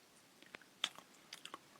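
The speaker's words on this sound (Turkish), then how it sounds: "Baba ağzını şapırdatmasan olur mu?" A man chewing food with loud mouth smacking, several wet, crunchy bites and clicks close to the mic in a quiet room.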